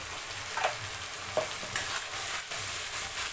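Ground masala paste fries in oil for a vegetable curry, quietly sizzling while a spoon stirs it with occasional soft scrapes against the pan.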